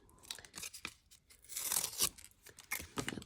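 A small strip of cardboard torn off a box by hand, heard up close as a run of crackly, fibrous ripping bursts that swell into a louder sustained tear midway, then break into a few sharper snaps, with no talking.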